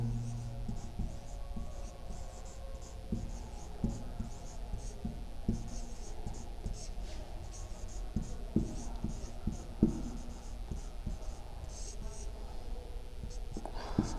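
A pen scratches across paper in short strokes while working a class 10 polynomial maths problem, close and soft, with someone talking quietly in Hindi over it.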